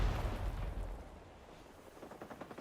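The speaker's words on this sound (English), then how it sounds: "So they're throwing back hand grenades." Hand grenades go off in the Vietnam War video game Rising Storm 2 Vietnam: a dull, distant low boom rolls out and fades, followed by quieter crackling rumble, all fairly faint with no talking.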